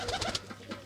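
Domestic pigeons cooing in a series of soft, rounded calls that come close together, fairly near and quiet, with no voices.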